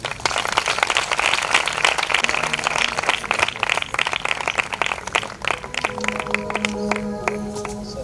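A church congregation applauding to welcome a speaker, dense continuous clapping from many hands nearby, with a sustained musical tone entering toward the end.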